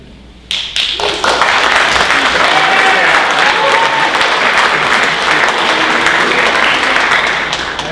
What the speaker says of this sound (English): I had a hunch that might draw an applause.